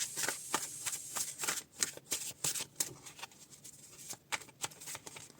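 Tarot cards being shuffled by hand in repeated quick riffling bursts, a soft papery patter recurring throughout, close and fairly quiet with no talk.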